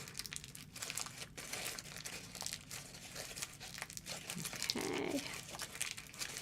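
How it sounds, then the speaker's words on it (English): Wax paper crinkled and crumpled by hand, a continuous close crackling rustle with small sharp crunches, alone without talk. "So you really want to kind of like get in there and crinkle it."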